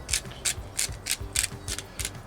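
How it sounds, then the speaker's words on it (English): A pepper grinder cracks pepper over eggs being prepared for breakfast on a Weber Slate griddle, a close, loud series of about eight rhythmic ratcheting grinds with no talking. "crack some pepper"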